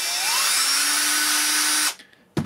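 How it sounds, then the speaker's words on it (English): An 18V cordless sheet metal shears, a drill-style motor driving an off-center bearing that works one jaw, whines steadily at close range for about two seconds, then stops abruptly, followed by a brief knock. "it's basically just a drill with an off-center bearing put on it."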